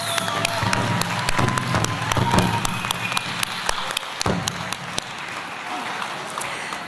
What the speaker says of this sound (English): Let's give Brandy a round of applause.